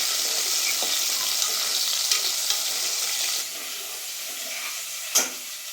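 Mutton sukka with sambar onions and green chillies fries in a pan: a bright, steady sizzle with stirring scrapes, a softer stretch midway and one sharp clack near the end.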